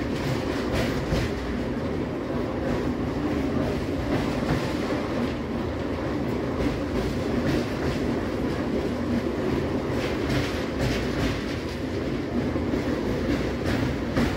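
A Howrah-Haldia galloping local train rolls along with a steady, loud rumble and rhythmic clatter of wheels on the rails, sustained throughout without letup.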